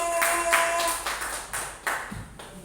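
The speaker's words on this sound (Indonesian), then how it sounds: "Beri tepuk tangan yang meriah." A small group claps during a teacher-training session, a few scattered, uneven bursts of handclaps rather than a full roar. The claps sit close and moderately soft, with a faint ringing tone lingering early on.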